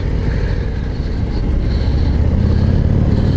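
Engine of a 2024 Harley-Davidson Street Glide 117 motorcycle while riding, a steady, loud low rumble with wind noise that holds throughout without pauses.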